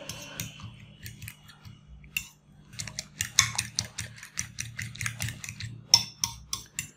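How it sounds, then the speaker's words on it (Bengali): A fork whisks three eggs in a bowl for a Spanish omelette, tapping out a rapid, steady run of sharp clicks against the bowl with no talking. "3টি ডিম ভালো করে ফেটিয়ে নিতে হবে"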